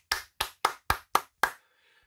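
Six crisp hand claps from one person, close and evenly spaced at a quick steady pace, followed by silence.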